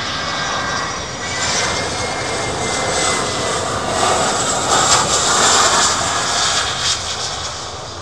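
A loud, steady jet engine roar from a nearby old Boeing 747 freighter at Miami airport, broadband and sustained with slight surges, no voices.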